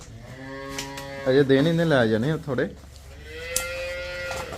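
A buffalo on a dairy farm lets out one long, close, wavering moo. People talk nearby before and after it.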